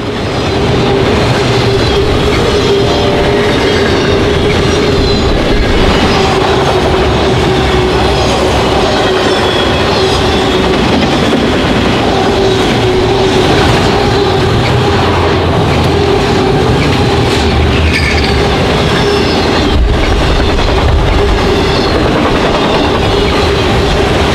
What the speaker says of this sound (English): we caught a westbound auto train with foreign power